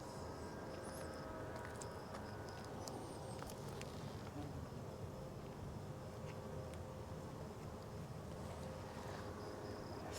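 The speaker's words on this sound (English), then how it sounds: "which will be beneficial to us and the bees. And they are awfully busy today." Honeybees forage among sunflowers on a lightly breezy day, making a dense, steady buzzing drone from many insects close by that never lets up, with no speech.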